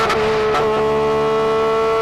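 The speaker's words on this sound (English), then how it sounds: "Let's have a listen to this engine." Porsche 911 GT3 RS flat-six engine pulling hard in second gear, a loud steady high-pitched harmonic wail from inside the car.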